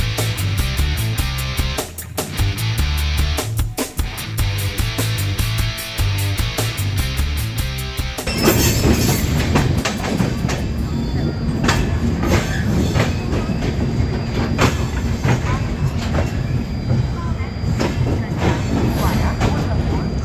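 A long-distance train from Mumbai to Jammu rumbles steadily along the rails, with rhythmic clatter early on, then a denser rolling roar with wheel noise and faint background voices.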